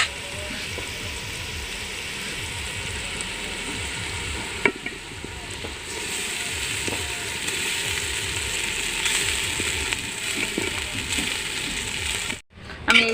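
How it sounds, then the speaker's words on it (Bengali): Cooked rice stirred slowly into fried vegetables in a pan over low heat, with a steady close sizzle and occasional soft scrapes and taps of the spatula throughout. "আমি এইভাবে ভাতটা এবার নাড়বো আস্তে আস্তে"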